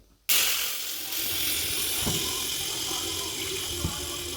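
A loud sizzle bursts in suddenly and settles into a steady, crackling hiss as a ground paste hits hot oil or ghee in a pan close by.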